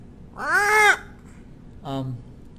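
A person imitates a parrot with two short, nasal squawking calls separated by a brief pause, heard close up against a quiet background.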